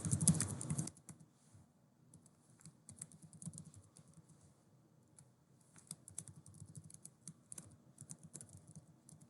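Keys tapped on a computer keyboard while a password is entered, a brief loud burst at the start followed by quiet, irregular soft clicks spread across the rest.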